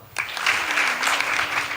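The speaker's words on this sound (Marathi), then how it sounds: "टाळी वाजवा" An audience claps along at a devotional kirtan gathering, a dense, lively burst of many hands applauding together, close and steady for a couple of seconds.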